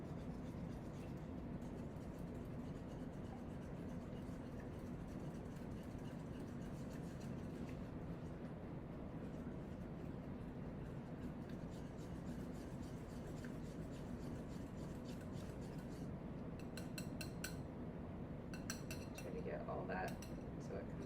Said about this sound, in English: Then you're going to whisk those wet ingredients together.